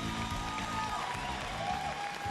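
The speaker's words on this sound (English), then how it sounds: "Can I get another round of applause, please?" Applause from the audience at a live E3 gaming event. It is a steady, washy crowd noise that fills the whole moment, with a tonal line running above it.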